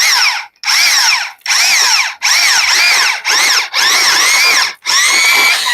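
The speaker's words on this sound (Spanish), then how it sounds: "Volvemos otra vez a aplicar la broca cónica y miramos cómo va el proceso." A homemade conical drill bit cuts into an Eaton axle cone in loud, close bursts of whining, squealing drilling, about six strokes separated by short pauses, with no voices.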